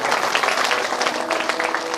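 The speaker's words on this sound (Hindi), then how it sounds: "जोरदार ताली बजा करके" Loud, dense applause from a crowd gathered for a live Shrimad Bhagavat Katha religious discourse, a steady continuous roar of many hands clapping with no pauses.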